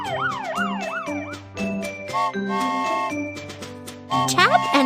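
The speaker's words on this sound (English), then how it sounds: "Police car, police car." A cartoonish police siren in a children's video game wails up and down over bright playful music, followed by jingly electronic tones.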